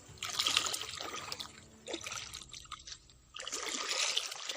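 Water trickles and splashes along a rocky path near Belwai waterfall in Rohtas, Bihar, a close, hissing flow that surges and eases in uneven bursts with no voices.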